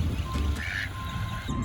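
Ducks in a park give a few nasal quacks and honks close by, short calls over light outdoor background noise.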